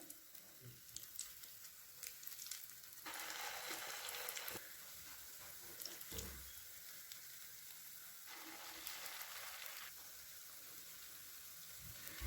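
A rice and yogurt batter cooks in an oiled pan over a medium flame, giving a soft, close sizzle that swells and fades in stretches, with a few light clinks.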